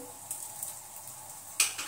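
Barnyard millet (varai) roasted in a pan is stirred with added salt and sugar, giving a soft continuous scraping hiss with a louder spoon clatter near the end.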